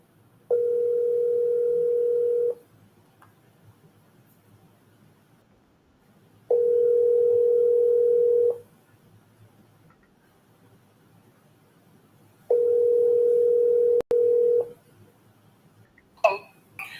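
Steady telephone dial tone from a live call-in show's phone line in Grand Bahama, sounding in three even two-second bursts separated by quiet gaps, with a brief clatter at the end.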